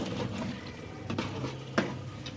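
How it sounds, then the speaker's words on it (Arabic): Rice mixed with vermicelli sautés in a pan, giving a steady sizzle with a few scraping strokes of a utensil stirring through the grains, close and continuous. "بصي الرز لما بتديله تشويحه بصي ماسك عامل ازاي اهو"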